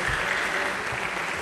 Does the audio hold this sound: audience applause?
yes